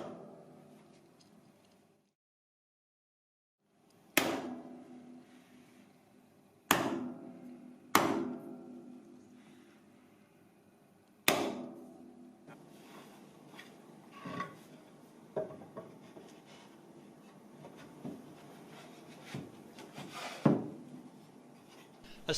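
Sharp chisel strikes and scraping as plastic support tabs are removed, a few distinct cracks followed by scattered smaller knocks and rubbing, close by with no talking.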